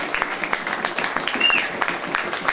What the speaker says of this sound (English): a round of applause for their achievements of minor premiership, team and cup